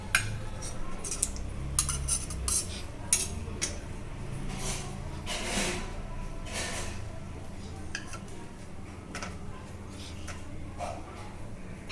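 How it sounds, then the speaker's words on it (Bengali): Chicken curry being served with a spoon, with repeated clinks and scrapes of cutlery against a pot and dishes over a low steady background hiss, occasional louder knocks early on. "এবার আমি চিকেন কারিটা সার্ভ করে দেব। আমি সার্ভ করে দিচ্ছি।"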